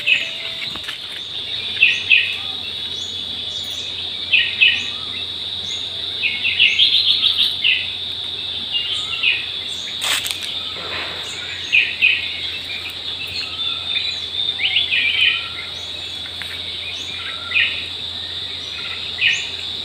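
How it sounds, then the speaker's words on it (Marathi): Birds chirp and call repeatedly at an eco village temple ground, with short bright bursts over a steady high insect-like trill and a low constant hum, fairly near and without talk. "2 मिनिटं शांत उभं राहिल्यावर तेव्हा कसला आवाज येतो पक्ष्यांचा."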